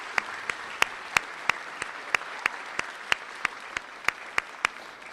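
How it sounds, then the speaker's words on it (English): Sparse, evenly spaced claps ring out at a school open house for two students, a steady rhythm of crisp single hand claps, as if from only a few people, over a quiet room. "How about a round of applause for our two amazing students?"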